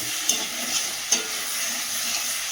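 Vegetable curry fries and sizzles in a pan with a steady hiss, with a couple of soft stirring scrapes, close up and without talking.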